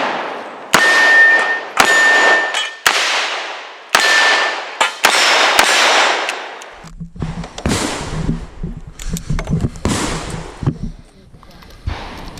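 9mm target rounds fired at steel targets during a 2-gun action match at the Fairfax Rod and Gun Club, a run of sharp loud shots each followed by a bright ringing clang, then softer distant pops with people talking.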